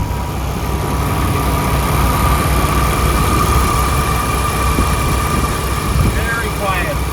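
A Paccar MX diesel engine idles in a 2020 Peterbilt 579 truck, giving a steady, even low rumble with a faint high whine that holds for the whole stretch.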